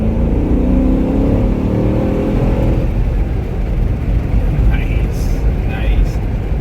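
A 2022 Dodge Durango R/T with its 5.7 V8 HEMI roars loudly as it accelerates, the deep engine note building steadily and close up, then easing into a steadier rumble with faint higher whirs near the end.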